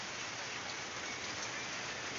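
Steady rain pours down on a garden in a dense, even hiss with no breaks, close and moderately soft.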